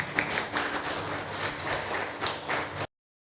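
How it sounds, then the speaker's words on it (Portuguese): A church congregation at a worship service applauds steadily for nearly three seconds, a dense wash of clapping that cuts off abruptly into silence. "Aplauda o Senhor neste momento."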